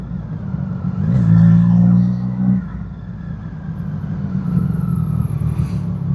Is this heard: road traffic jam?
yes